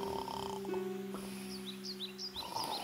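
A wolf snoring as a sound effect in a narrated fairy tale: low, rasping breaths under sustained musical tones, with a few high chirps.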